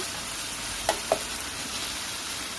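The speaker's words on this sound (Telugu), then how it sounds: "ఫ్రై చేసుకుంటే చూడండి ఇప్పుడు మొత్తం మిక్స్ అయిపోయినాయి కదా ఆనియన్స్లోని అల్లం పేస్ట్" Onions and ginger paste fry for an egg masala curry, giving a steady soft sizzle close by, broken by two quick scraping stirs just before the one-second mark.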